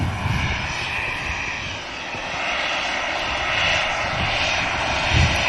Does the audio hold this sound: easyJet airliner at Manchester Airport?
yes